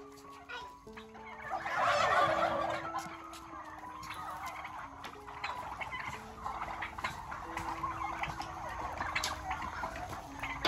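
Turkeys on a poultry farm gobble in repeated bursts over a busy flock murmur, with a loud rolling gobble near the start and more calls scattered after.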